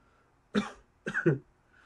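Two short, sharp coughs close by from someone recovering from COVID, the second a double burst, against a quiet background.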